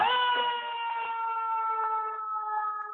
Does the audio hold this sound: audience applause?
no